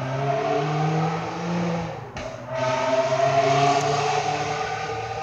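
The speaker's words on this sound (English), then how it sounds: "Somebody needs a muffler on their bike." A loud, unmuffled motorbike revs nearby with a steady throaty drone, dips briefly and then revs up again, with no voice, heard from an autumn park.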